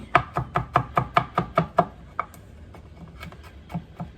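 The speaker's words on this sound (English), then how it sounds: "Try to mince this up." A knife chops vegetables on a cutting board with about nine quick, evenly spaced, close strikes, then a few slower, scattered taps.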